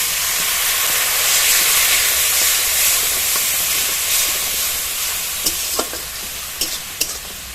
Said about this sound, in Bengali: মশলাটা তেল ছাড়া পর্যন্ত কষিয়ে নেব।